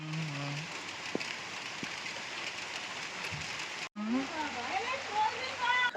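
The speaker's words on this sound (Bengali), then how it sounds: "বৃষ্টি চলে আইছে, বৃষ্টি চলে আইছে, বৃষ্টি চলে আইছে।" Steady rain pours down outdoors, a dense even hiss with splashing, while voices talk and call out over it close by.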